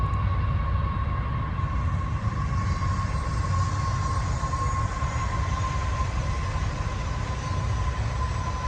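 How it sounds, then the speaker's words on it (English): A train passes close by, a steady, loud rolling rumble with a thin, sustained metallic whine above it, continuous throughout with no voices. "I can hear a train coming"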